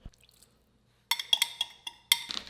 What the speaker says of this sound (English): Then he pours some red wine vinegar into the oil